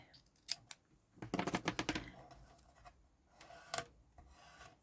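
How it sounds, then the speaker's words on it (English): A thumbnail burnishing down tape on a papercraft Christmas bauble, heard as a short close run of rapid rubbing scrapes with a few softer isolated taps before and after. "All I was doing there was just burnishing down the tape with my thumbnail"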